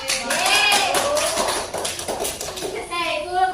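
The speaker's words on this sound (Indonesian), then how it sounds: "Tepuk tangan." Children in a classroom clap together in a brief burst of hand claps, mixed with their excited voices and chatter.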